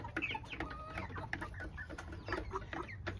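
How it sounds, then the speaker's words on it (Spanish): Rooster and chickens on a farm raising improved creole hens, clucking busily and overlapping close by, with a steady barnyard murmur underneath and no talk. "Miren, amigos, miren, miren este gallito."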